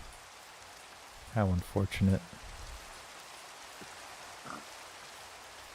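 Rain falls steadily in the Minecraft video game, a soft, even hiss running the whole length beneath a brief spoken remark and a faint grunt.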